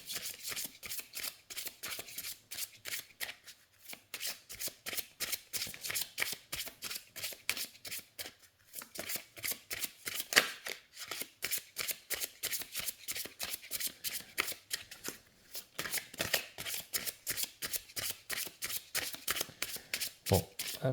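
A Lenormand oracle card deck being shuffled by hand: rapid, crisp riffling clicks in continuous bursts with short pauses, close and fairly quiet, with a voice speaking in places.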